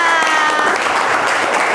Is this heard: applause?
yes